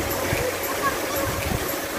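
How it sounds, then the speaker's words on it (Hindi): Water tumbling down the falls at Ayn Athoom in Salalah, Dhofar, a steady broadband rush of falling water and splashing that stays constant throughout, with voices faintly mixed in. "जहाँ नीचे पानी गिरा है।"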